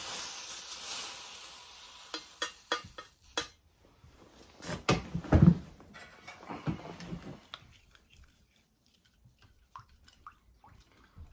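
Hot wood-stove ash stirred into water to make a slurry: faint sizzling and hissing, with scattered scraping and clinking of a utensil against a container, then quieting to near silence.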